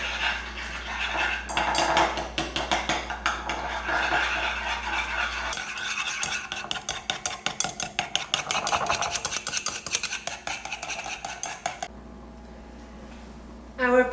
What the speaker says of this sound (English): we whisk